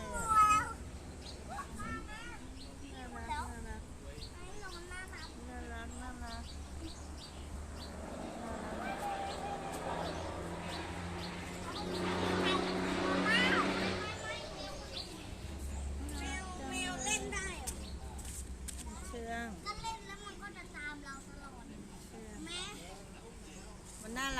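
A pet cat meows repeatedly, close by and fairly loud, amid steady conversation and outdoor background noise.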